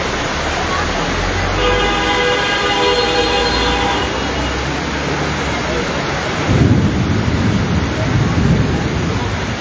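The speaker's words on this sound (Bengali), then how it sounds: "সবাই আসলে বৃষ্টিকে উপভোগ করতেছে" Heavy rain roars steadily outdoors at a footbridge over a street in Khulna, Bangladesh, with a deep rumble swelling partway through and a horn sounding in the distance.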